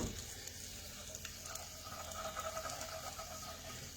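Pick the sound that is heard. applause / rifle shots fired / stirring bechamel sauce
stirring bechamel sauce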